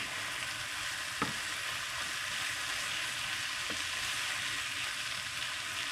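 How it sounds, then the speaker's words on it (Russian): Mushrooms frying in a pan give a steady, close hiss and sizzle, broken by two brief scraping stirs of a spatula, with no talking. "И перемешиваем."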